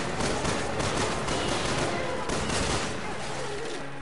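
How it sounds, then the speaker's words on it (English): Sustained gunfire in the Resident Evil 6 video game, a dense fusillade of rapid shots filling the whole four seconds at steady loudness with faint voices mixed in. "I'm going to shoot the absolute hell out of this thing."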